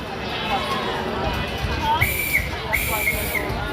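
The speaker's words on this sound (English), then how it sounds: "Somebody needs a new whistle." Old coal-fired steam train at Cedar Point amusement park sounding two shrill whistle blasts, the second longer, mid-distance over busy crowd chatter and background noise.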